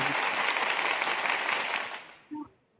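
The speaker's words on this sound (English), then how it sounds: "And a round of applause." A round of applause from a small group during a discussion, dense clapping that holds steady for about two seconds then quickly fades out, followed by a brief voice.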